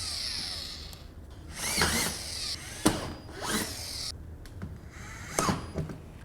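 A power drill fixes metal U-track to a floor while building a metal stud wall, giving several short whirring bursts close by, with scrapes and handling noise between them.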